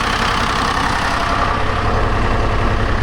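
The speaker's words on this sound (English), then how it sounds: "I almost didn't think it was going to idle by itself." A Detroit diesel swapped into a telehandler idles on its own, a steady, loud low rumble with an even mechanical beat that holds without a break from start to finish.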